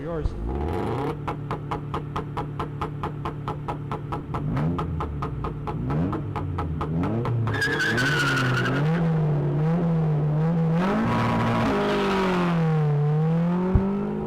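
A Subaru BRZ and a Van Diemen race car launch at an SCCA ProSolo event, engines revving and idling rhythmically before tires squeal and the engines scream up through their pitch, with an announcer talking over them.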